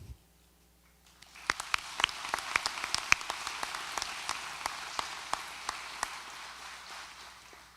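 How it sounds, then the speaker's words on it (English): A graduation ceremony audience at a career center breaks into applause after names are read, a broad wash of many hands rising from quiet and holding steady at a distance, with sharper individual claps standing out. "Please hold your applause until all of the names have been called."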